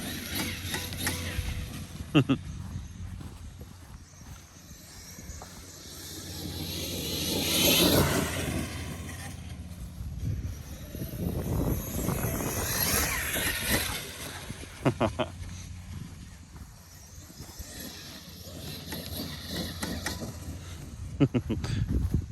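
A Traxxas X-Maxx RC truck with a 1717 motor whines through full-throttle bursts that rise and fall as it pops wheelies and small hops, rushing sound swelling and fading under someone talking.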